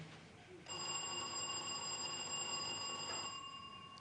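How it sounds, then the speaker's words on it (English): Quiz contest answer buzzer tested at a school competition, one steady electronic buzz with a bright pitched tone lasting about three seconds, clear and fairly loud, with no talk over it. "So let's test our buzzers."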